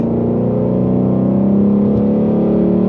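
A Ford Shelby GT350 Mustang engine in sport mode runs loud and close, holding a steady rumbling drone that swells slightly as the revs rise, with no voices.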